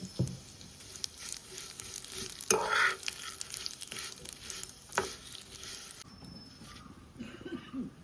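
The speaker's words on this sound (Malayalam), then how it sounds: "ഇത് ലോ ഫ്ലെയിം ഇട്ട് വേണം വറുക്കാൻ" Steady sizzling and crackling of vermicelli frying in ghee over low flame, with occasional stirring scrapes and clinks, close and continuous, no talking.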